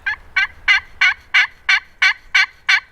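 A Longbranch turkey game call gives a run of about nine quick, evenly spaced gobbling yelps that imitate a wild turkey, loud and close with no voices.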